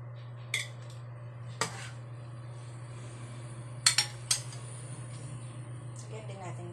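Food for ginataang tulingan being put onto a plate: a few separate clinks and taps of utensil on dish, with two close knocks near the middle, over a steady low hum and quiet talk.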